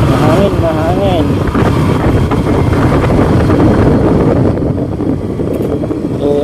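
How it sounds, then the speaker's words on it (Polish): Wind roars steadily across a phone microphone, an Oppo Reno 6 Z 5G, while riding a motorcycle, with loud continuous buffeting and engine drone throughout. "Ayan guys, mahangin, mahangin."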